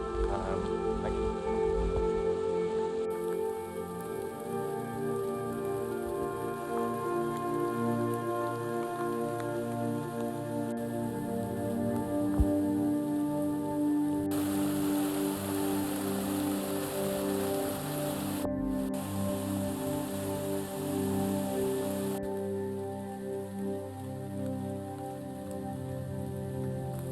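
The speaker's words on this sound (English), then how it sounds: "So guys, I'm still walking in the rain." Rain falls steadily through the Tai Po Kau forest in Hong Kong during a hike, a soft continuous patter on leaves and surfaces, with faint tonal background sounds layered underneath.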